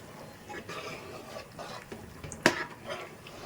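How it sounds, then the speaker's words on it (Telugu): Mutton biryani masala being stirred and mixed through in a pot, with soft scraping and shuffling throughout and a single sharp metallic clink of the spoon against the pot partway through, close and fairly quiet. "మొత్తం ఒకసారి కలిపేసుకుందాం"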